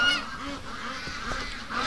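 Farm ducks honk and quack loudly close by, a couple of overlapping nasal calls over a quiet outdoor background.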